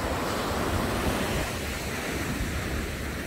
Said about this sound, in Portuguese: o mar como está revolto, né?